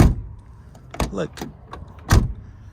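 Mercedes W124 from 1988 with a door shut at about one second and another solid thump near 2.1 seconds, each a short close impact, with light rattles between and a brief spoken word in the middle.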